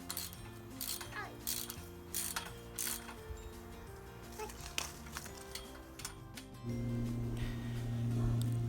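Screws being tightened on a portable greenhouse frame, a series of faint sharp ratcheting clicks and taps, followed near the end by a steadier low hum.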